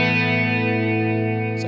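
A sustained chord drenched in Artifakt Lo-Fi Elements µVerb reverb with its high cut filter on the wet signal, a steady dense wash of tones holding at even level throughout, with a brief bright burst near the end.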